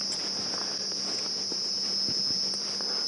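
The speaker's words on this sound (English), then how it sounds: "So I think they sound like redback cicadas" Redback cicadas call in a late-season wild setting, a steady, high, continuous buzzing drone throughout, fairly faint, with light rustling and scattered small sounds beneath.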